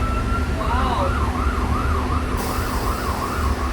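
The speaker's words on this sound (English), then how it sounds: "Oh, fire truck coming out of the station there." A fire truck pulling out of its station sounds a wailing siren that rises and falls in a steady cycle, heard from inside a city bus over a loud rumbling engine.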